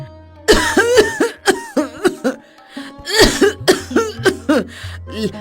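A woman coughs deliberately in a string of loud, close, harsh bursts, some rapid and clustered, others spaced apart, each followed by a brief wheezy intake of breath.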